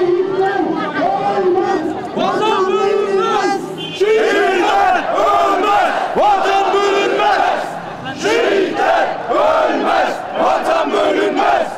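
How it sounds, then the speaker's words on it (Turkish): Thousands of townspeople in Bolu marching with Turkish flags from the municipality building to the city square, a dense crowd chanting patriotic slogans in loud rhythmic waves that rise and fall continuously. "Türk bayraklarıyla belediyenin önünde toplanan Bolu binlerce vatandaş şehitler ölmez, vatan bölünmez, her şey vatan için ve ne mutlu Türk'üm diyene sloganları atarak kent meydanına kadar yürüdü"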